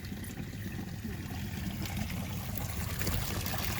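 Water flowing back through a pond filter into a garden waterfall, a soft, steady trickle and splash that runs continuously at low volume.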